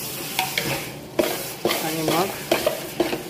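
Onion and tomato fry in a large pan for hotel gravy, loud sizzling broken by repeated scraping stirs of a spoon against metal, close, while someone speaks briefly.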